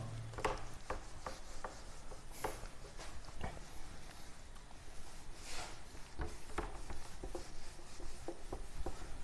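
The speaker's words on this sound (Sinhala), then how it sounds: "හරි මම මේක මකනවා." An eraser rubs writing off a board during a physics class, giving repeated scraping strokes in a loose rhythm, close and moderately loud, with no talking.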